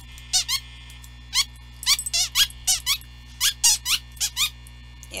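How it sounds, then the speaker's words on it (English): A dog's squeaky toy is squeezed in quick pairs and bursts of sharp, high squeaks, about a dozen over several seconds, close and loud over a low steady hum. "that's my dog's toy that I'm squeaking"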